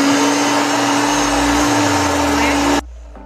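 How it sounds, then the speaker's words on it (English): A countertop blender whirs through crêpe batter with a loud, steady motor drone for almost three seconds, then cuts off abruptly into near silence. "And now we're gonna blend away."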